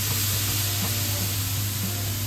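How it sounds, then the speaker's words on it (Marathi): Water splashed onto a hot dosa griddle hisses and sizzles in a steady, close, even spray of sound with no voices present. "तर आवाज झाला म्हणजे तवा तापलेला आहे"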